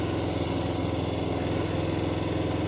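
Harley-Davidson Softail Fat Bob motorcycle engine while riding, a steady loud throbbing drone that holds even and continuous throughout.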